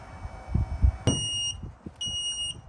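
A MA-VE hydraulic levelling system's error alarm sounds in two high, steady beeping bursts, the first following a sharp knock and low thumps, the second after a brief pause.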